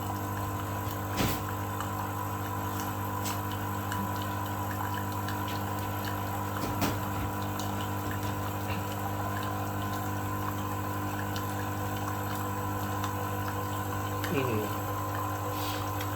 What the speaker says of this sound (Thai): ถ้าเราไม่กดกาแฟเนี่ยเจ้าเครื่องนี้ก็ทำน้ำร้อนให้เราได้ด้วยนะครับ